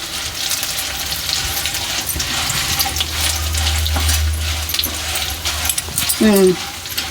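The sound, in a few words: frying ingredients in oil for gongura pickle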